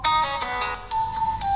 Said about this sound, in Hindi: फ़ोन रिंगटोन पर क्लिक करना है।